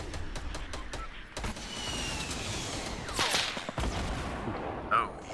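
Gunfire and rocket blasts in a Fortnite match: a rapid string of sharp shots at the start, then a steady mid-distance battle rumble with a louder burst around the middle and a short whistling rocket near the end.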